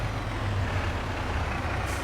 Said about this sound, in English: We'll see if the lorry can actually pull it.